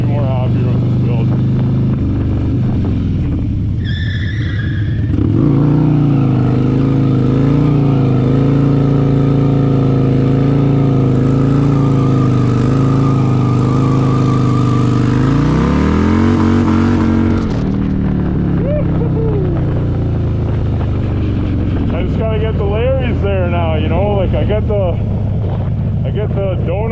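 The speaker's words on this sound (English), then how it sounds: "I get the donuts going, but as soon as I try to add more throttle, it wants to slip out on me" A Harley-Davidson Road Glide's engine rumbles and revs as it does donuts, a loud, close, sustained roar that climbs and holds before the throttle drops off near the end.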